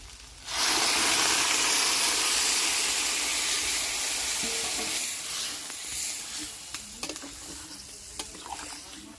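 Loud hissing sizzle erupts as heated water hits a pan of frying jackfruit and prawn curry, a broad steady roar that slowly settles into bubbling with small clinks, no talking.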